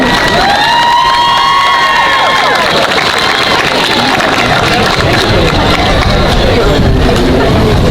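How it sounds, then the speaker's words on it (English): A large graduation audience at a high school ceremony claps and cheers for parents in a dense, loud, sustained wash, with whoops and shouts rising over it early on. "It's okay to thank your parents and clap for them too."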